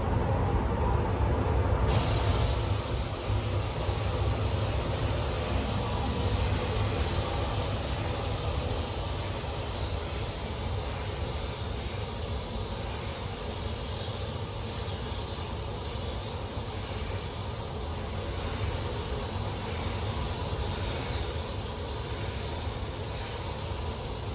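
Spray gun painting a Mitsubishi Colt CZT during a respray, a continuous loud hiss of atomised paint with slight swells as the gun sweeps, with no talk over it.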